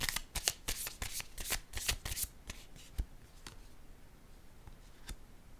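A deck of tarot cards being shuffled up close: a quick burst of riffling, flapping snaps, then slower, sparser card flicks that trail off into quiet.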